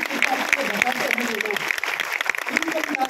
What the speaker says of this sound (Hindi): आपके लीडर के लिए जोरदार ताली होनी चाहिए